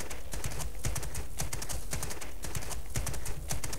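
Rapid rhythmic hoofbeats of a galloping horse in the video game Abenteurer auf dem Reiterhof 2, loud and close, repeating steadily throughout.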